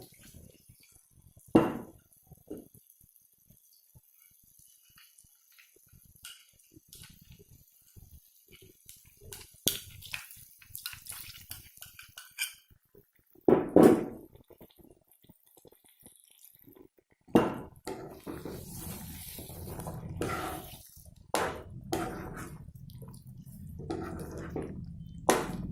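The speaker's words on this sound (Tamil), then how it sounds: "இதில் கொஞ்சம் தண்ணி கொஞ்சம் ஊற்றிக்கலாம்." Water poured into chicken gravy in a pan, giving faint drips followed by louder splashing and a sustained wet, squishy wash of liquid that continues through the latter half without talk.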